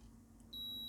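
A multimeter beeps a continuity check on a leg of a Harlequin 48k ZX Spectrum kit board being troubleshot. A single steady, high electronic tone starts halfway through and holds to the end over a faint background hum.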